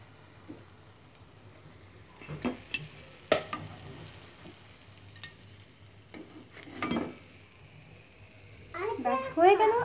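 Coconut pitha cakes fry in oil with a low, soft sizzle under intermittent clatter from utensils and the pan, and a voice speaking at points.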